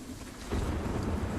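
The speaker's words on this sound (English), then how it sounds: "We have a dynamic weather system, so now it's raining." Rain from the dynamic weather system in Sniper Ghost Warrior 3, a steady broadband hiss of downpour with low rumbling underneath that swells louder partway through.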